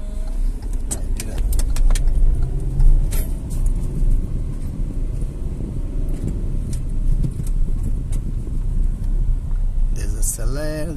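A car on a driving-school lesson in a residential neighbourhood, its engine a loud, steady rumble that rises slightly as it accelerates, with light rattles and clicks inside the cabin.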